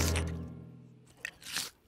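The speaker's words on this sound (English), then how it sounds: "that sort of scrunching, munching noise." Someone munching and crunching on a juicy rain pear from a tree in a cartoon setting, with a few crisp, brief bites heard near and fairly loud against a quiet background.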